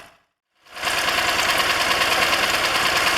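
A small outboard marine motor, warmed up after about ten minutes of running, idles steadily and close by, its even mechanical drone starting after a brief moment of silence.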